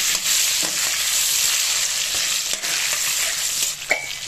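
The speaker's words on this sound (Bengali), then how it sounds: "এবার নেড়ে চেড়ে ভেজে নেব।" Papaya pieces seasoned with salt and turmeric stir-fry in hot oil for a mutton curry, giving a steady, close sizzle with occasional scrapes and clinks of stirring, and no voices.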